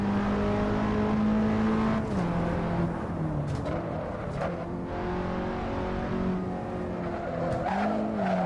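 Tires squeal as a car slides without braking in a racing sim driven with a Fanatec CSL Universal Hub v2, a sustained skid over a droning engine note that rises and falls, loud and close with no talking.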